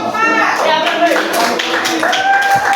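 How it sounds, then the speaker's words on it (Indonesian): A classroom of students claps for a student group, quick sharp hand claps close by mixed with voices talking over them. "tepuk tangan untuk kelompok"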